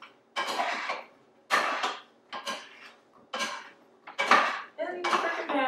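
Food being mixed and tossed in a pan, with repeated scraping clatters of utensil against metal in bursts about a second apart, close and fairly loud.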